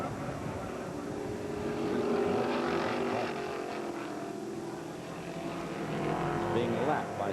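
Racing engines at the 1980 SCCA GT-1 National Championship at Road Atlanta, including a Camaro lapping another car, drone and rise steadily as the cars pass, with a commentator talking over the noise.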